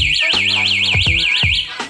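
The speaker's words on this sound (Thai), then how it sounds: "จะมีเสียงร้องเตือนก่อนครับครั้งแรกสั้นๆครับ" A Z300 car alarm gives a short warning burst after the car is shaken: a rapidly warbling electronic siren tone, loud and close, with a few dull knocks underneath, lasting under two seconds.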